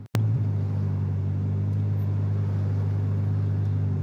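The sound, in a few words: Toyota Corolla engine in stop-start traffic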